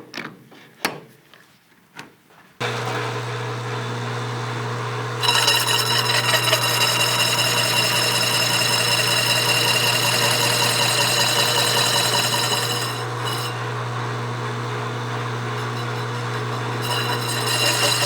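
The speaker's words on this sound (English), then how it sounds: "we're going to machine the OD down to spec" A lathe machines down the outer diameter of a 52-tooth MONDO bicycle sprocket held on its inside by the jaws, giving a steady loud cutting drone with a strong low hum that swells midway and holds to the end, no talk.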